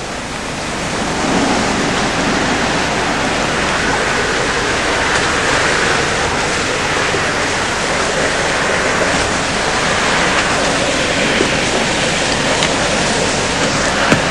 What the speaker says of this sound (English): This is a very sophisticated water wheel, designed to get the maximum amount of power out of the water available.